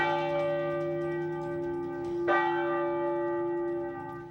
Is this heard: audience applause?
no